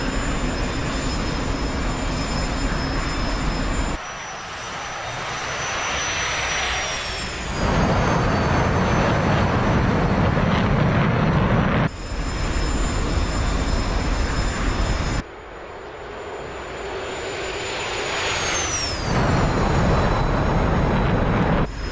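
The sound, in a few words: F-105 Thunderchief jet engine in DCS World video game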